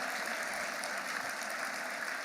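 An audience at an award ceremony applauds with dense, steady clapping that holds at an even level for the whole short stretch.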